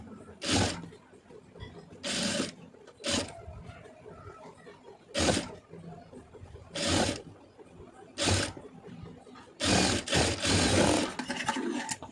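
A sewing machine stitches a neckline design on a garment, running in about eight short loud bursts separated by quiet pauses with light fabric handling.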